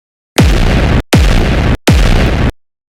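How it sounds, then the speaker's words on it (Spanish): Three loud, close explosive blasts go off in quick succession, each a sudden broadband boom that holds for over half a second before cutting off, set on and above a river as bombs detonate underwater and in the air. "Las explosiones detonaron bajo el agua y en el aire"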